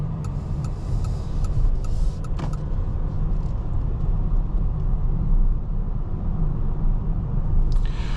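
Inside a 2026 Nissan Rogue Plug-in Hybrid on the move, a steady low road rumble and muted cabin hum carry on without a break, with light ticks and rattles and no one talking.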